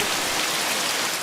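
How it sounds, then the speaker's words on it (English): Heavy rain pours down outdoors as a dense, steady, even hiss, loud and continuous with no gaps or voices. "it was raining like crazy"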